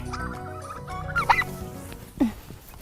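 A flock of turkeys clucking and calling nearby, with a couple of sharper, louder calls standing out over a continuous murmur of birds.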